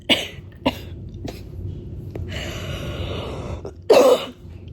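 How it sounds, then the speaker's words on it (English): Several sharp coughs, a couple early on and a louder burst near the end, with quiet room noise and faint breathing between them. "I always start coughing when I start recording myself"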